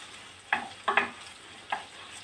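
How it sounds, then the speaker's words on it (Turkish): Bulgur and vegetables frying with tomato paste in a pan, a low sizzle under a few sharp scraping stirs of a spoon, close and otherwise quiet. "Biraz da salçamla kavuracağım tabii ki de."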